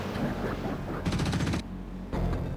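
A grenade goes off in the Xeno Crisis game on Sega Genesis/Mega Drive hardware, part of a loud burst of rapid gunfire and blasts, with two dense bursts separated by a short lull.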